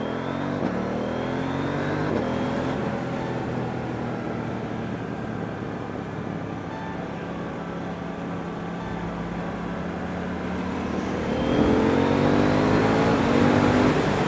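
A KTM Duke 790 motorcycle engine accelerates, its revving pitch climbing in steady sweeps, easing off midway, then surging louder again near the end, close and continuous with no talk.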